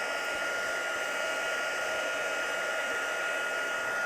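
A heat tool blows steadily over a stamped card to dry Distress ink, producing a constant, close, loud whirring hiss without a break.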